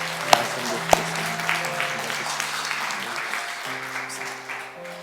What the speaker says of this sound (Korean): 우리 큰 박수로 이분들 격려해 주시기 바랍니다